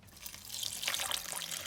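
Water is poured over dandelion flowers with a pinch of salt in a pot, a close, splashing stream that grows fuller and steadier after the first moment.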